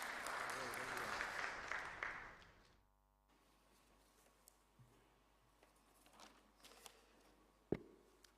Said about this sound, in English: please welcome Mr. Paranjpe with a great round of applause